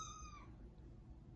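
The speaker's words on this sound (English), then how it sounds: "if you hear any cats in the background" A single short, faint cat meow in an indoor room at a house, brief and quiet over low background hum.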